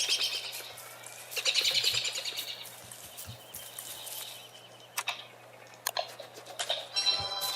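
Bird chirps from the video game Don't Starve Together: several bright, high twittering bursts in irregular clusters, loud and close, with quiet gaps between them and no talking.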